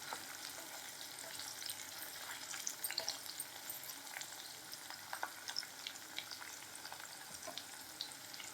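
Capsicum frying in a pan for vegetable rice, a faint, steady crackling sizzle with scattered small pops and light stirring, quiet and close with no voices.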